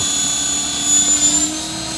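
KDS Innova 600 flybarless radio-controlled helicopter flying nearby, a loud continuous high-pitched rotor and motor whine with a slight swell in the middle, no talking.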